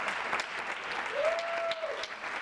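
Steady applause from an audience fills the room, a dense wash of clapping with a brief whistle-like tone rising through the middle.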